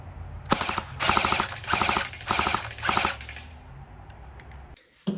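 A CYMA CM048 AK74 airsoft rifle fires five rapid bursts in quick succession, each a loud, mechanical rattle, followed by a few quieter handling clicks.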